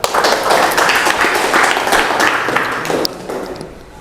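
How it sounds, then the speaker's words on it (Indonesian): A classroom of students clapping together during a lesson, a loud, dense burst of applause that holds steady for about three seconds and then tapers off quickly. "Oke, tepuk tangan."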